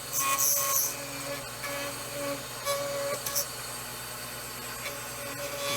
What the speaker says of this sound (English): Of course, you can hear the cutter in the background.